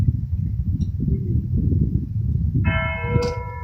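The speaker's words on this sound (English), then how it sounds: "Westminster chimes!" Church bells chiming noon with Westminster chimes, a loud clear bell strike ringing out near the end over a low rumbling background.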